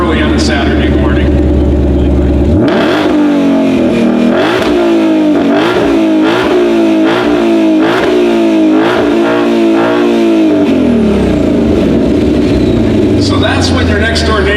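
A 2020 Ford Mustang Shelby GT500 engine fires up with a loud burst, then revs repeatedly in rising and falling pulses before settling back toward idle, very loud and close.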